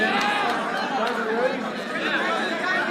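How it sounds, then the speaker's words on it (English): Crowd chatter fills a gym at a high school wrestling dual meet, a steady murmur of many voices talking at once, with no single voice standing out. "there is a very good crowd here"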